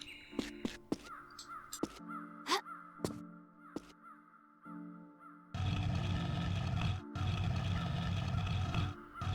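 A bird caws in the Tomb Raider level editor game TRLE Icy Paradise, harsh calls mixed with sharp game sound effects, followed by a loud sustained rumbling noise.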